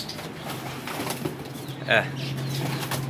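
Pigeons coo softly in the background, with a brief burst of flapping wings partway through, under faint low hum and distant voices.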